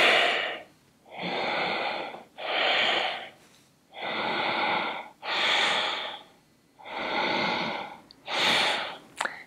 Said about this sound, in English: you just inhale and exhale by moving the ribs